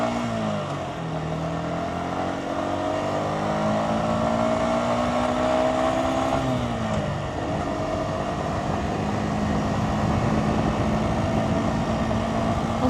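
A motorcycle engine revs up through a gear while riding, its pitch climbing steadily and then dropping at a shift before pulling again. Wind roar is constant and loud close to the rider.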